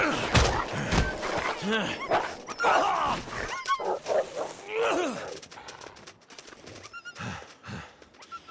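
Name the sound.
dog barking in the video game The Long Dark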